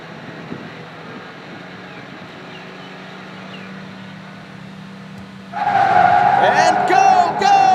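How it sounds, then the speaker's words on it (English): Toyota Vios race cars on Sepang North Track hum quietly on the grid, then their engines surge together into a loud, sustained roar at the race start, with sharp high whines from the pack. "let those engines roar!"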